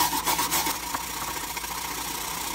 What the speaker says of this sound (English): Let's try a big wire brush, a welding style wire brush.